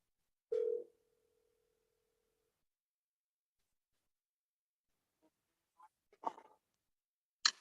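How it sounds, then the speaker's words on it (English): A landline telephone dial tone sounds briefly, then after a pause a few short dialing tones follow as someone calls a bank, clear against silence. "So let's give them a phone call."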